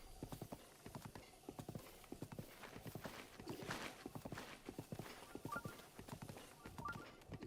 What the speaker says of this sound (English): I wonder if I can ride my horse up these stairs.